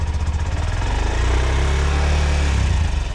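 A motorcycle engine runs steadily nearby with a low, throbbing rumble, no exhaust leak blowing and a stock exhaust, and no voices.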